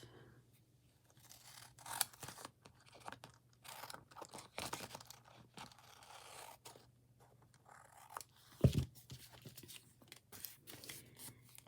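Scissors snip through paper while trimming an envelope booklet, several crisp close cuts and a rustle of paper, with quiet pauses between the snips.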